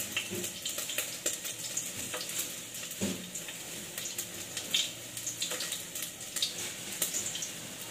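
Garlic fries in a pan with a crackling, spitting sizzle that carries on throughout. Occasional sharp clinks and scrapes of stirring sound close up, and no one speaks.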